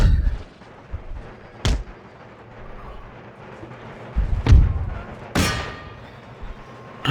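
Cannon and musket fire crack out in the Empire Total War game, Darthmod version, during a Prussia campaign battle: a few heavy booming shots at irregular intervals over a low rumbling battle bed, with no talking.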